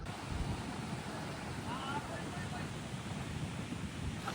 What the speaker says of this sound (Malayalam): അത്രയ്ക്കും കാറ്റാ, ഗംഭീര കാറ്റ്, രക്ഷയില്ലാത്തായിട്ട്.